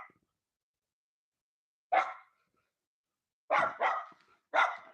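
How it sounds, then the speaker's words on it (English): Several dogs bark outside a house in short separate bursts: a single bark, a pause, then a quick run of barks with a final one, moderately close and with no talking. "3 dogs outside, 1 on the inside making all the noise."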